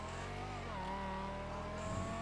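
Car engine revving in GTA V on a pearlescent red and camo gray sports car with a turned-out exhaust, a loud sustained growl whose pitch dips and then climbs, heard alone.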